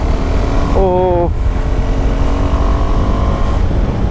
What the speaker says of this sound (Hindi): ये देखो, जैसे ही ये 6000 आरपीएम क्रॉस कर रहा है